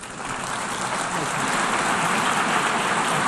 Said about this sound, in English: Insane that people are clapping